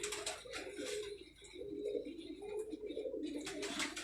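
A large pigeon held in someone's hands coos softly in repeated low, throaty bursts on a rooftop loft in Punjab, with faint rustling and chirps around it.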